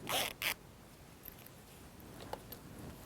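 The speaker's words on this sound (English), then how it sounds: "Close your zipper" A zipper pulled closed on a home-sewn dress during a beginner sewing session, two quick close rasps at the start followed by faint handling and scraping in a quiet room.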